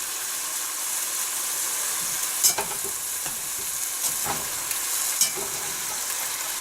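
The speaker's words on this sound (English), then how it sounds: "And you'll see that dumplings are starting to fry up nicely." Homemade dumplings frying in a pan, giving off a loud, steady hissing sizzle with a few scraping stirs and clinks of a utensil throughout.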